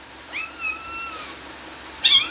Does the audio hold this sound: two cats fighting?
yes